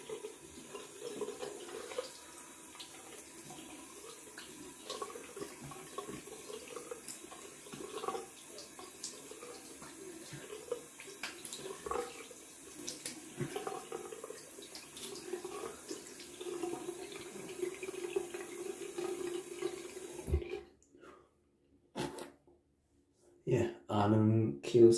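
A bathroom tap runs for a final cold-water rinse after a wet shave with a vintage Gillette safety razor, a steady close splashing stream that cuts off near the end, followed by a few short bursts of water.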